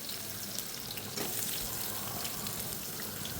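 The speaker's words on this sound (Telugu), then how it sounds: "ఇవి కొంచెం బాగా వేగిన తర్వాత కట్ చేసి పెట్టుకున్న ఆనియన్స్ని దూరగా ఫ్రై చేద్దాం" Onions sizzle and crackle in a hot pan for chicken liver biryani, a steady close frying hiss that swells briefly partway through, with no talk.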